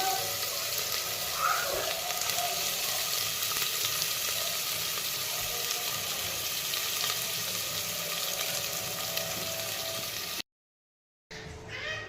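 Onions and curry leaves frying in hot oil for a home-style chicken biryani, a steady dense sizzle running throughout before cutting out briefly near the end.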